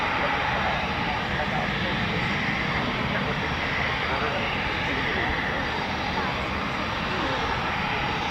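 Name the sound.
twin jet aircraft takeoff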